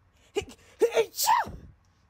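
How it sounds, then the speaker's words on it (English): A short, sharp sneeze bursts out close by after a couple of quick breaths, followed by a brief vocal sound trailing off. "I just sneeze"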